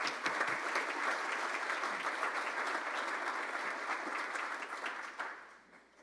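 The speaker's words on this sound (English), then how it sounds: "Give these guys a round of applause." A crowd at a Rotary Club of Tulsa meeting gives a round of applause, with steady, dense clapping that holds evenly and then fades out at the end.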